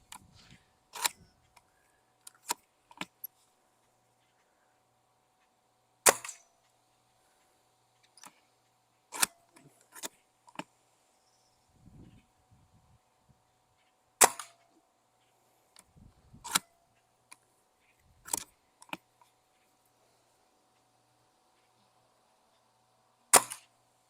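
An airsoft sniper rifle fires at targets: sharp, isolated snaps and cracks, some followed by fainter impact ticks, spaced irregularly across a quiet background with long gaps between shots.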